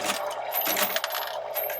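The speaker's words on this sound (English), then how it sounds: "I'm actually going to run some stuff through here right now and watch them fall" Coins clatter and rattle continuously as they drop through a coin counting machine, a dense, close metallic jingle with no voices over it.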